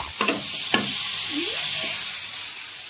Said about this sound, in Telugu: సో ఇవి బాగా ఫ్రై చేయాలి.